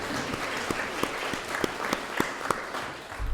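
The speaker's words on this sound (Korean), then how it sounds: "큰 박수로 하나님께" A congregation at a Sunday church service gives a round of applause, with steady clapping from many people underneath a sharper, louder rhythmic clap standing out near the front, fading at the end.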